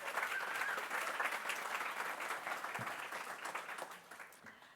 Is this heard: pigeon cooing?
no